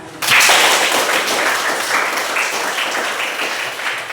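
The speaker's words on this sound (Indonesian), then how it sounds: "Tepuk tangan untuk semua." Applause in a classroom starts abruptly and continues as a lively, fairly close burst of many hands clapping, tapering slightly toward the end.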